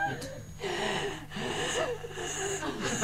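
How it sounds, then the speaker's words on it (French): A comedian performs a yoga breathing exercise as part of a stage routine, with loud, gasping, wheezy breaths in quick succession, close and continuous, mixed with vocal sounds. "Je vais faire la respiration yoga."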